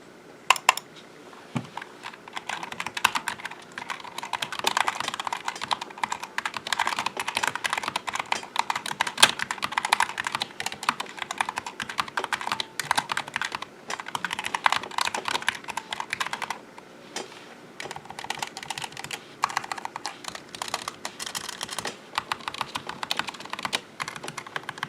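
Steady, fast typing on a modded Logitech G915 mechanical keyboard, with close, slightly rattly clicks running continuously at a moderate level with no talk.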